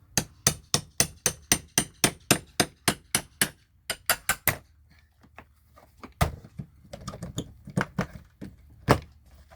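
A cat's paw is worked against common and roofing nails in wood, first as a quick regular run of sharp metallic taps, then as scattered knocks, scrapes and creaks as the nails are pulled and pried loose.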